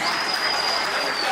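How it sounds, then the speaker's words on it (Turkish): A crowd at a wedding celebration in Istanbul claps for the cameraman, a brief burst of dense, steady applause that fills the space, fairly loud and close. "bir alkış ile bizlerin grubumuzun içindeki Samir Alife'ye bir alkış olsun"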